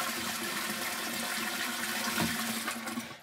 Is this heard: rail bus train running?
no